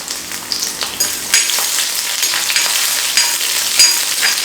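Large pieces of cut garlic fry in hot oil with a steady bright crackling sizzle, close and loud, and a few stirring scrapes along the way.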